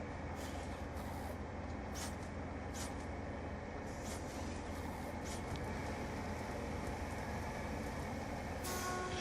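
Heavy bus engine rumble from Black Ops 2, with sharp hissing bursts of air brakes repeating as the bus comes to a stop, loud and steady throughout with no talk.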